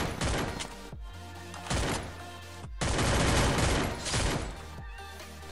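MP5 submachine gun fire in the mobile battle royale game Free Fire: several loud, dense bursts of rapid shots with short pauses between them, and no voices.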